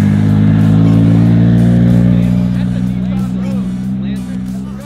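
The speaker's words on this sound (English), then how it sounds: "There goes that McLaren, baby." A McLaren sports car passes close by with a loud, throaty engine roar that slowly fades, and a person speaks over it.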